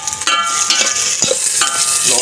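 Garlic and onion sautéing in a pressure cooker give a steady, close sizzle and crackle, broken by scraping strokes as a utensil stirs the pan.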